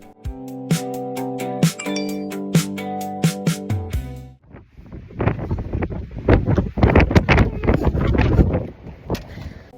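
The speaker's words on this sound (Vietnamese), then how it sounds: "Và gió ở đây đúng là không thể đùa được." Strong wind gusting along the Costa Brava coast, a continuous loud rushing and buffeting that follows a few seconds of musical tones.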